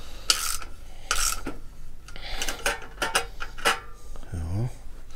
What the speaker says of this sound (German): Ja, ich schraube dann mal kurz.